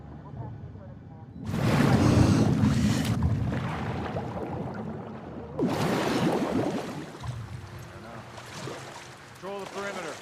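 Boat engine in The Last of Us Part II, rumbling and splashing through a flooded Seattle in two loud bursts with water wash, while characters talk over it.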